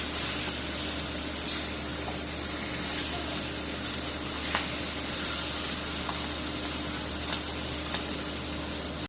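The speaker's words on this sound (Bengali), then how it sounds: "মাছ উল্টে দিব এখন।" Flipped pangas fish keeps frying in a pan, giving a constant close hiss of bubbling oil with occasional faint ticks and spits and no voices.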